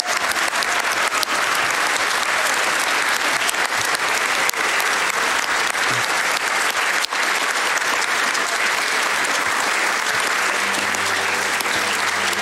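Loud, sustained applause from a crowd at a Super Mario Sunshine speedrun event, steady clapping filling the whole stretch with scattered cheers, no talking.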